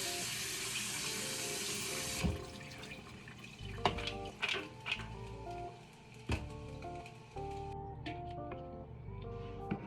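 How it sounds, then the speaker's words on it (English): Running cold tap water splashes steadily, then clattering and knocking as beans are rinsed in a sink, with a few louder bumps. "I also like to rinse my beans with cold water."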